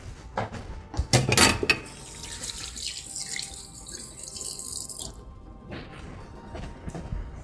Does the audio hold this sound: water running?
yes